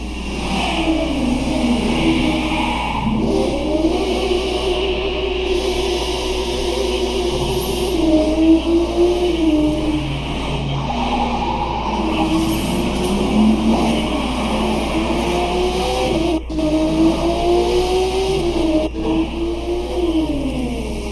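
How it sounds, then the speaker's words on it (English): Street race cars in The Crew 2 racing game roar and rev continuously, engine pitch sweeping up and down through gear changes with brief skids, loud and dense with no talk. "street racers prove their skills, skidding on rooftops, burning asphalt, and tuning their rides"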